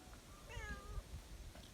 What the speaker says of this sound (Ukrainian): Це наш кіт